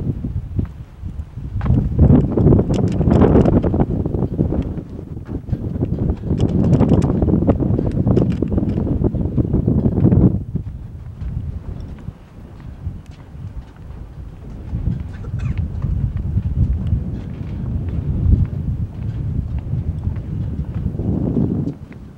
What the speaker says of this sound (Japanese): だいぶ風が強いですね。